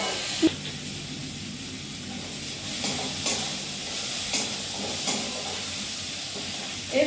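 Tomato stirred into reddish fried onions in a pan, a soft hissing sizzle with occasional scraping stirs and light knocks, close and steady with no talk.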